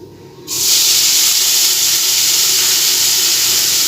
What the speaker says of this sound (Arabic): ومعايا شويه زيت في الطاسه ديت. شويه زيت هدخل البصل ده كده